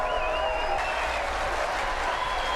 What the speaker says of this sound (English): All the applause for him.